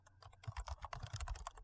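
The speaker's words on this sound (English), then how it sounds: "The cat is typing on the screen." A cat walks across a computer keyboard, producing a quick uneven flurry of soft key clicks and thumps, close and fairly quiet with no talking.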